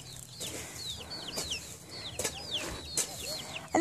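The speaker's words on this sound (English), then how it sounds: "Chickens come running." Free-ranging chickens on a farm with coffee plants and banana trees cluck steadily at close range, their soft repeated calls mixed with high chirping birdsong and no talking.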